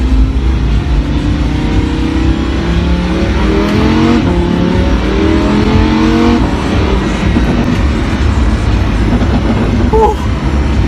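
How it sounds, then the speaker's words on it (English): A 2017 Ford GT's engine drones loudly and steadily with rumbling exhaust, rising in pitch as it accelerates, with a few sharp pops and crackles near the end. "It is the crackles. Something they do with the gas bubbles and the exhaust."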